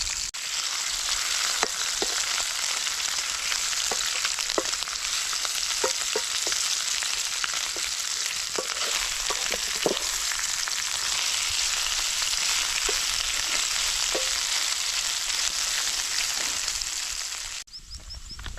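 Bitter gourd slices with turmeric fry in a pan, giving a steady, loud broadband sizzle with scattered crackles and pops throughout, close and continuous with no voices, then ending abruptly.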